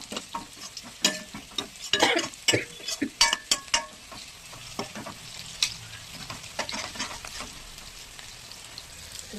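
Onions frying in a pan with salt and turmeric, nearly browned, are stirred with a utensil: a steady sizzle under repeated scraping and clattering strokes, busiest in the first four seconds, then quieter, with no talk.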